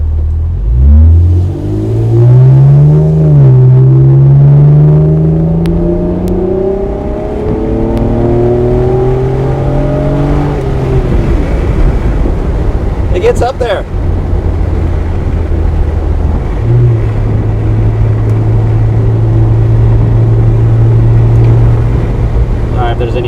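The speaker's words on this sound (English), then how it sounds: "roll down the window a little bit, see if you can hear any kind of exhaust note" A 1991 Acura NSX drives with the window down, its engine note rising and falling through revs near the start and then settling into a steady drone under wind noise, while someone talks over it.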